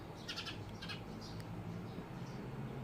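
A pet bird gives a few short, high calls near the start, fairly faint and close, over a low background hum with no talking.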